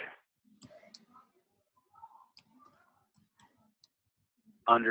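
Light, scattered clicks of typing on a computer keyboard, quiet and irregular, with brief pauses between keystrokes before a voice starts at the end.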